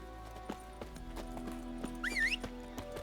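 Roach, a horse in The Witcher 3, trots with steady clip-clop hoofbeats and lets out a clear, rising whinny partway through, close and fairly quiet against a low game hum.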